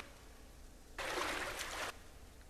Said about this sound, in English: You're just walking into water. I don't hear a splish-splash. Now I hear it.